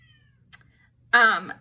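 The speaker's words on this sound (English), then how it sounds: "Cat is like meowing at the door." A cat meows once at a door, a short, clear, fairly loud cry after a near-silent stretch with a faint click.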